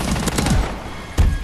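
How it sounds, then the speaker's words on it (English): A shotgun fires in Call of Duty: Advanced Warfare during a free-for-all match on the Bio Lab map, with several quick booming blasts close together, then a pause and one more sharp shot. "It was a shotgun battle up in here."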